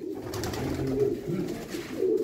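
Pigeons kept in a loft compartment coo in low, throaty, overlapping murmurs, a steady close chorus with no talking.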